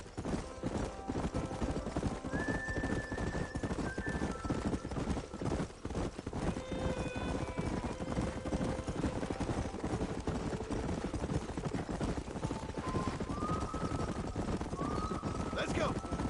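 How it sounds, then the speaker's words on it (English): Steady clip-clop of horse hooves with an occasional whinny in Red Dead Redemption, under continuous game music and ambient noise. "There's the horses!"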